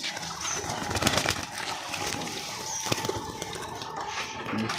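Domestic pigeons coo softly in a covered rooftop loft, low murmuring calls repeating over a steady background hiss, with faint fluttering nearby.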